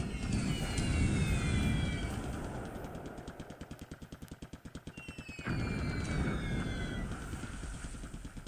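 Aircraft engines drone and whine, with a rapid pulsing propeller rhythm in the middle and rising engine tones passing over, as single airplanes attack in the game War in the Pacific: Admiral's Edition.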